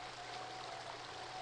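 A waterfall in the adventure game The Dig, a steady rushing and trickling of falling water, soft and continuous for a brief moment.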